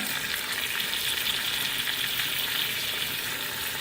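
Onion paste and curry leaves fry in hot oil for a fish head curry, giving a dense, steady sizzle that stays loud and even throughout with no pauses.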